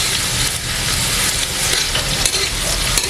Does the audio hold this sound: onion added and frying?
yes